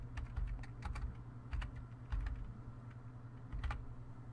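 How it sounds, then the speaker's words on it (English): Computer keyboard typing, quick irregular bursts of light key clicks with short pauses between words, close and fairly quiet. "Now I'm just going to type a little text in here."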